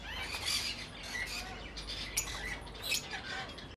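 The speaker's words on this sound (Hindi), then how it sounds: "यहाँ पर भी कुछ लवबर्ड्स है" Lovebirds in a breeding setup chirp and squawk continuously, a close, busy chorus of sharp shrill calls with loud bursts throughout and no talking.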